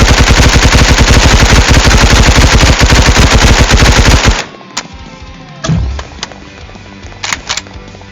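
A gun in the Roblox game Hypershot fires a loud, rapid automatic burst for about four seconds, then stops, leaving a few scattered clicks and short game effects.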